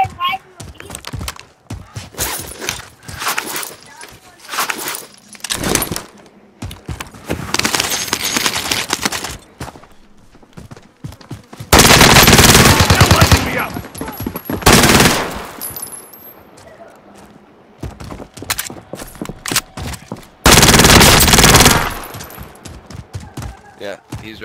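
Gunfire in a video game Gulag fight, with repeated bursts of automatic fire and loud close shots mixed with impacts and footsteps, while people talk over it.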